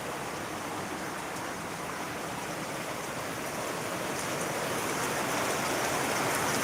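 Heavy rain pours down in a constant dense hiss, steady throughout and slightly swelling toward the end, with no voices.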